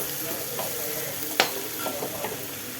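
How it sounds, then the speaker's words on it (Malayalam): Bitter gourd, tomato and onion sauté in hot oil with a constant soft sizzle, broken by stirring scrapes and one sharp clink of the spoon against the pan partway through. "പാവയ്ക്ക, തക്കാളിക്ക, ഒരു സവാള, ഇത് മൂന്നും കൂടെ എണ്ണയെ വഴറ്റിയിട്ട്"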